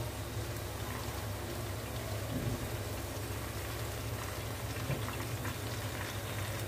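Sliced nendran banana chips fry in hot oil, giving a steady, dense sizzle and crackle that holds evenly throughout without pause.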